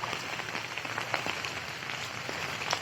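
Rain falling steadily near Siddhivinayak temple in Pragati Nagar, Nalasopara, a constant hiss with scattered drops and patters throughout, no voices.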